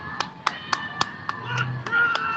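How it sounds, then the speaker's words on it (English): A person standing close by claps their hands at a street protest, giving about eight sharp, evenly spaced claps over a faint background. "Somebody standing next to me clapping at that."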